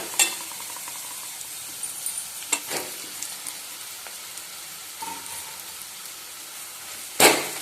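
Boiled potatoes being stirred into a sizzling masala in a pan: a steady soft frying hiss with occasional scrapes and sharp clicks of the spoon against the metal, one louder knock near the end.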